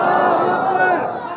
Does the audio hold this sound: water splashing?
no